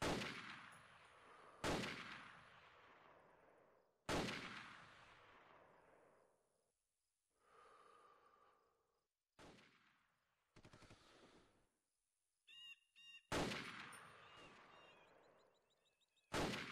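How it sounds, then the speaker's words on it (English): Rifle fire in America's Army 2 marksmanship training, a video game, comes in loud sharp bursts and single shots, each with a decaying echo, separated by short pauses and faint mechanical clicks. "Commence firing!"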